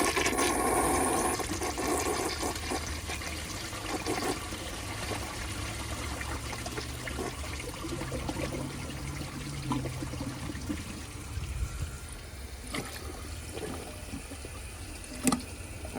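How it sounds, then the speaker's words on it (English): A 1983 Gerber Mt Vernon toilet flushes, a steady rush of draining and refilling water that runs on evenly, with a faint clunk near the end and no talking. "I'm going to try to give it another flush"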